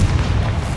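A fiery Confringo spell blast in Hogwarts Legacy gives a loud, rumbling boom that holds steady for just under a second, heavy in the low end with no pause.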